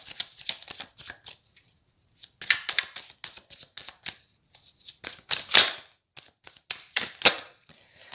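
Tarot cards are shuffled and drawn by hand, giving a close run of crisp riffles, flicks and slaps in uneven bursts with short pauses between them.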